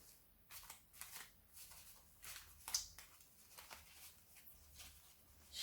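Tarot cards being shuffled by hand, a quiet run of soft papery riffles and flicks in bursts, close and fairly faint with no talking.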